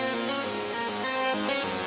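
Cinematic lead synth from a Serum preset in FL Studio, a sustained melodic line with rich harmonics stepping between held notes over about two seconds, steady and fairly loud, with no voices.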